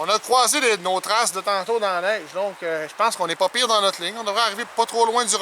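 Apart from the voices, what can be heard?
None of the usual background noises is heard.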